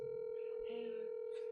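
A telephone call rings out before going to voicemail, heard as a steady electronic ringback tone with faint voices murmuring underneath, quiet and brief.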